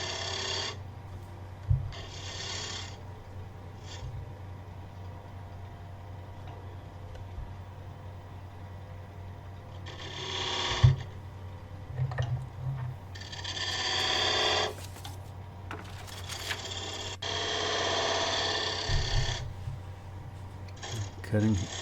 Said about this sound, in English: So I'm using a spindle gouge.